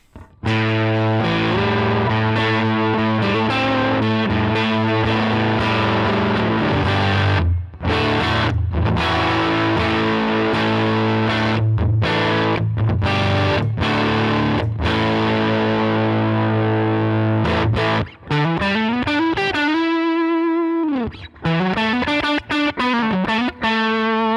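Overdriven electric guitar on the neck pickup through a Line 6 HX Stomp amp model, loud and close, with chugging chords and sharp stops giving way to sliding, bending lead notes near the end.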